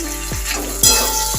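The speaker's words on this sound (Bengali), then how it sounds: "ভালো করে কষে নেবো মশলাটা" A masala paste of ginger, cumin and chili with turmeric fries in a pan, giving a steady low sizzle broken by a few sharp scrapes and taps of a stirring spoon.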